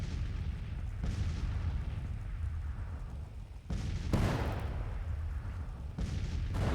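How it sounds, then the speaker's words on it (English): Artillery fire in Grand Tactician: The Civil War, a low rumbling barrage with several heavy booms, the loudest near the middle of the clip, rolling under a steady battlefield din. "he's going to get taken out by the artillery"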